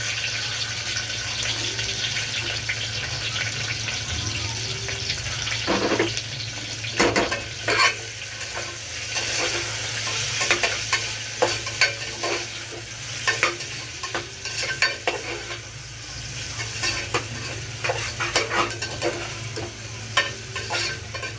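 Onion and ginger fry in a pan for a home-style prawn rice dish, a steady close sizzle with repeated stirring scrapes and clacks and a low background hum, with no talk.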